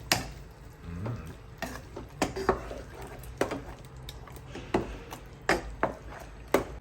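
Ugali stirred in a pot, heard as a series of sharp scraping knocks of a spoon against the pot at an uneven pace, close and moderately loud over a low background hum.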